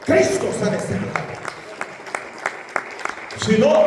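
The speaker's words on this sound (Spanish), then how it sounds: "Denle un aplauso fuerte al Hijo de Dios." A church congregation claps during a sermon, with a burst of applause at the start, then scattered individual claps spaced out in the middle, before a louder wave of clapping and voices returns at the end.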